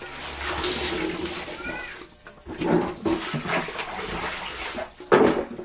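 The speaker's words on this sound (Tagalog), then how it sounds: "So, pangatlong banlaw na to." Tie-dyed fabric is rinsed in a tub of water on its third rinse, with continuous sloshing and splashing near at hand and a few louder splashes.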